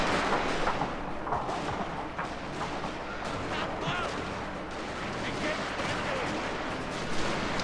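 Gunfire from a Black Bear unit in the strategy game FOTS, a continuous rumbling barrage of shots and blasts under a commentator's talking, moderately loud with no clear breaks.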